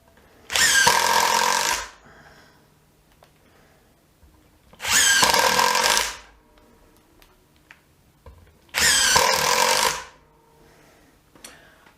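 DEWALT DCF801 12V brushless and Milwaukee M12 FID Gen2 impact drivers take turns driving screws, three loud rattling hammering bursts of about a second each, separated by quiet gaps with faint handling clicks.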